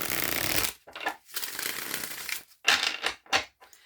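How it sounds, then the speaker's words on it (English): Tarot cards being shuffled up close, a papery riffling and sliding in several bursts separated by short pauses. "keep shuffling"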